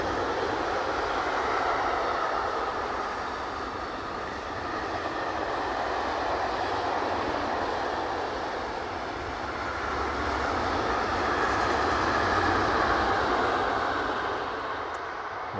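A steady, broad rumble of a train rolling past at a moderate distance, swelling slightly toward the end with no voices.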